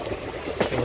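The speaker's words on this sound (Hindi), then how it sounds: "बिल्कुल जंगल में चलती ट्रेन" Goa Express passenger train running along a jungle route, a close, steady rumble of carriages on the rails with a brief louder clatter partway through.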